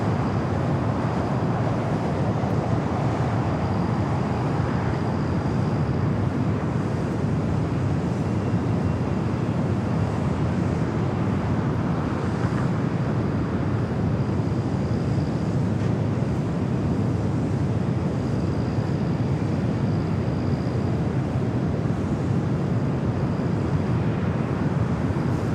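An airliner takes off from LAX, its broad jet roar steady and loud across the whole stretch with wind rumble and no voices.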